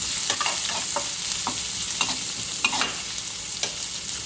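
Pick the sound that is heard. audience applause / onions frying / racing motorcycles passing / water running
onions frying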